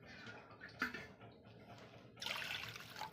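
Water poured into a pot for making samosa chutney, faint trickling and splashing in short bursts, with a fuller, louder pour near the end.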